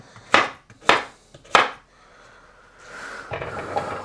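A knife slices a courgette on a board in three sharp, evenly spaced chops, close and loud, followed by quieter scraping and handling sounds.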